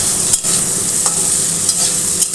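Curry leaves hit hot oil seasoned with kalonji for a white potato curry, giving a close, bright continuous sizzle with occasional stirring scrapes.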